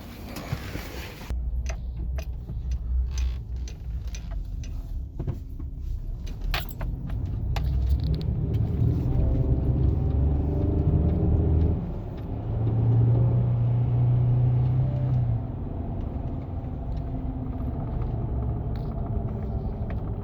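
Low engine rumble from a Chevrolet Silverado 4.3 V6 with stock exhaust, heard inside the cab, with some rattling and handling noise at first, then steady droning as revs rise and fall.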